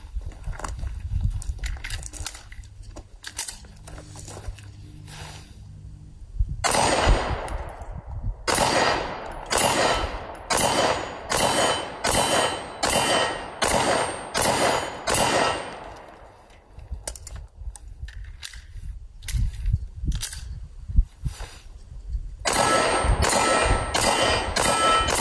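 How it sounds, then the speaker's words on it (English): SIG P365 SAS compact pistol fired at a range: loud, sharp reports in quick runs of rapid shots, with pauses between strings and no talking. "I'm going to go ahead and get to firing this thing."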